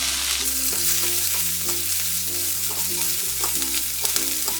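Sliced green chillies and fenugreek seeds sizzle and fry in hot oil in a pan, cooking for a masala dosa filling. A steady, close frying hiss carries throughout, with faint stirring scrapes and no talking.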